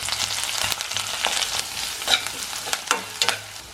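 Shallots, curry leaves and dried red chillies fry in hot coconut oil after mustard seeds pop, giving a loud, close, continuous sizzle with sharp crackles and spatters throughout, no talking.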